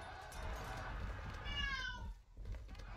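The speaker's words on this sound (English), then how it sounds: "Yes, my cat is celebrating our luck here." Domestic cat meowing indoors, a short rising-and-falling meow standing out faintly over a quiet room hum, with someone speaking softly around it.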